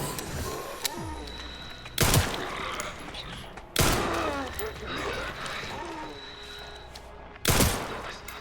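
Gunfire in the horror video game Resident Evil Requiem: three loud, sharp shots spaced about two seconds apart, each a sudden broadband crack with a trailing tail, over a busy backdrop of game ambience and creature noises.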